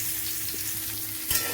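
Mango pieces with dried chillies, coated in salt and turmeric, sizzle steadily in hot oil for a jaggery mango pickle, a soft continuous frying hiss with a brief stir clatter near the end.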